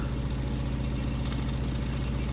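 A Wilesco D406 toy steam engine runs with a steady, fast, even mechanical chuffing and whirring, close and continuous, with no talking.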